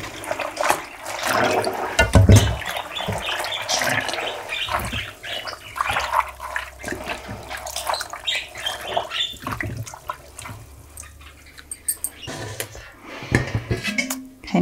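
Fabric soaked in water being wrung out, producing splashing, dripping and squelching water sounds with occasional clatters of a pan or basin, close and fairly loud.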